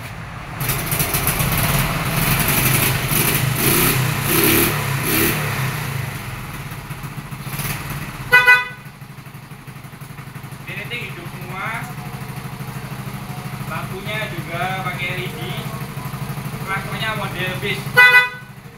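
A restored Honda S90 motorcycle with a freshly rebuilt engine runs steadily throughout, its idle joined by other engine and horn-like sounds early on, with a couple of sharp bursts and some background voices and noise later.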